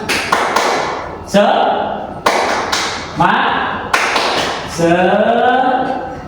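A group performs a rhythmic spirit clap (tepuk semangat) in a classroom training session: bursts of sharp, loud hand claps in quick clusters, alternating with shouted group chanting.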